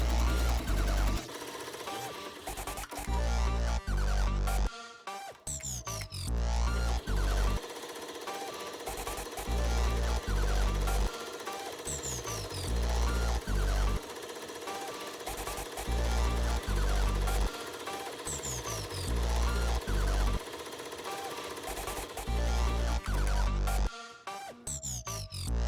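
An embroidery machine stitches out a client's logo, a steady loud mechanical chatter that pulses in rapid bursts with brief pauses between runs, close and continuous throughout.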